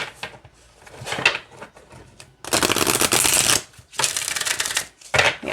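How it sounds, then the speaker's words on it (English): Findhorn Spirit Oracle cards are shuffled by hand nearby, a run of soft riffles and slides that swells into a dense, loud flutter of snapping cards before more shorter shuffles. "Okay, let's see how they shuffle."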